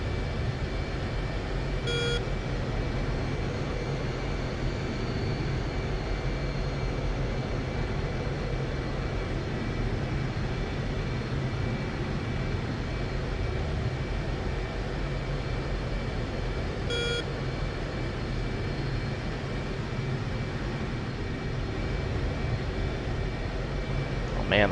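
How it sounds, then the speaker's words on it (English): F/A-18 jets taxiing in the flight simulator DCS, heard as a steady, loud engine drone that never lets up, with two brief beeps breaking through roughly fifteen seconds apart. "Las Vegas flight is taxiing"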